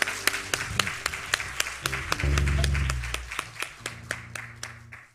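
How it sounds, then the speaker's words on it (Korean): Hand claps from a church congregation open a prayer school session, a steady run of sharp, separate claps, some in rhythm, with low musical tones or voices swelling in the middle. "저의 기도학교는 박수로 시작해요."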